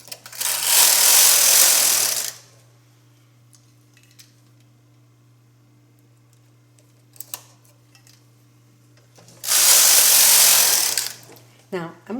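Two long rasping sweeps of a knitting machine carriage drawn across a sweater's rows, loud and close, separated by quiet handling clicks and small taps.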